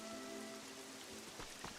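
Rain falls steadily in the Pokopia video game, a constant soft hiss of drops spread evenly through the short stretch with faint tonal background music.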